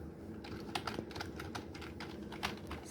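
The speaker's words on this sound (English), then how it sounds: "So now let us type something" A computer keyboard being typed on after it was taken apart and put back together, its caps lock light working; a steady patter of close, crisp key clicks over a constant background hiss, with no talking.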